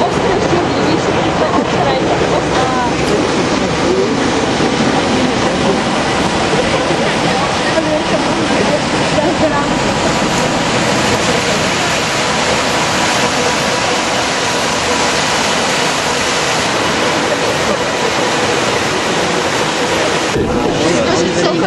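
A mixer stirring sludge in a tank at a water treatment plant, a loud continuous churning roar of moving water that stays constant throughout.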